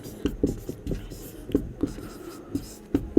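Chalk or marker writing on a board during a physics lesson, a series of short scratchy taps and strokes in an irregular rhythm, close and moderately loud, with faint room noise between strokes.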